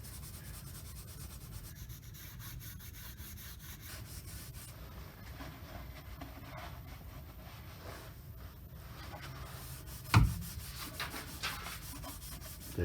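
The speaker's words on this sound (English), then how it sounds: "on a green pad and start cleaning up the flange here" Green abrasive pad scrubbing old gasket material off the flange of a Ford rear differential cover, a continuous low rasping rub with one sharp knock near the end.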